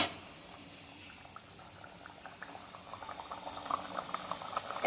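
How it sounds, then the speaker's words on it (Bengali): Puris fry one at a time in hot oil over a low gas flame, a constant bubbling sizzle that grows busier and crackles more toward the end, close and fairly loud, with no talk. "তেল গরম হয়ে গেছে। এবারে আস্তে আস্তে আমি একটা করে পুরি ভেজে নেব।"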